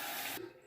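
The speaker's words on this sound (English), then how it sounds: "Rinse the razor." A razor rinsed under running water: a short, steady hiss of flowing water for under half a second, then it cuts off, quiet and close.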